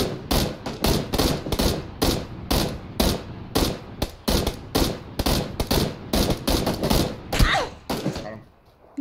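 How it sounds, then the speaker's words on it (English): Gunfire in PUBG rings out at close range, with rapid rhythmic bursts of shots repeating steadily, loud and punchy, fading out at the very end. "Getting shot from my southwest side behind the tree"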